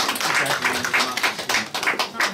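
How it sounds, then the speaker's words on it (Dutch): Audience applause at a Miss Limburg International pageant event presenting a girls' calendar model, a dense steady patter of many hands clapping close and continuous with slight swells throughout. "Dames en heren, geef ze een daverend applaus."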